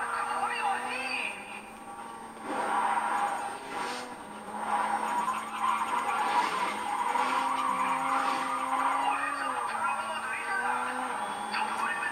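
A Mazda RX-7 drifts in the racing video game Grid, with tires squealing in long wavering skids over a steady engine hum while someone talks over it.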